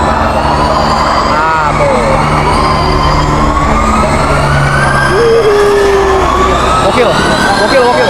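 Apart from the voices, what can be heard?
Formula E electric race cars passing by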